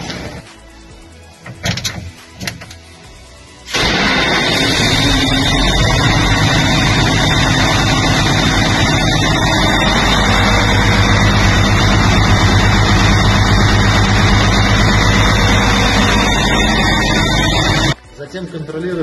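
After some clunks and a brief cranking, the heavy diesel engine of a Krone Big X 1180 forage harvester roars to life and idles steadily and loudly, with a high whine, before stopping abruptly near the end.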